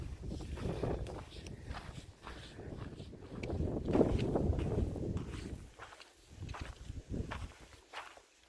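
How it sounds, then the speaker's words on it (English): Wind gusts buffet the microphone on a steep Pacific Crest Trail mountain path, a steady broad rush that swells in the middle, with crunching footsteps underneath. "Ooh, wind!"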